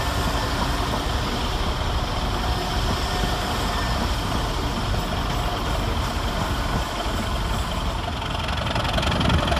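A diesel multiple-unit passenger train, 172342, at Birmingham Snow Hill station rumbles steadily and loudly nearby, a constant heavy drone with knocking and hiss, no voices.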